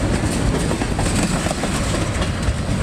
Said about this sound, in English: that was LNC Train 12 heading eastbound past Circle S, past Knox Station Farm